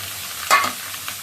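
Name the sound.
fish frying in oil with black cumin and fenugreek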